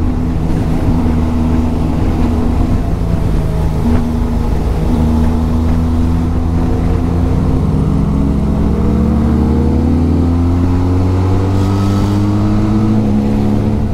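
A motorcycle cruising on the Murree Expressway with steady, loud engine drone and wind rush, its pitch rising and falling gently as the bike holds speed and leans through curves.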